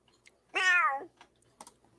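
A person imitates a cat with a single drawn-out, convincing meow, loud and close, followed by faint clicks and soft taps.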